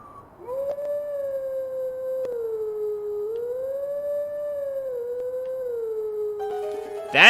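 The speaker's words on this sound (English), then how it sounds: "we have our first Howling Stone" A Howling Stone in Zelda: Twilight Princess gives out a single long, wavering howl that holds one tone and slowly bends up and down, clear and alone, ending with a brief loud burst.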